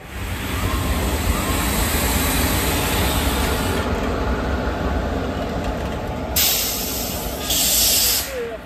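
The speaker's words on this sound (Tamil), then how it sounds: "ட்ரெயின் வந்துட்டுருக்கு மக்களே" A loud, continuous rumbling roar with rhythmic clatter from the Chemmozhi Express rolling into a platform nearby, with hissing brakes rising toward the end.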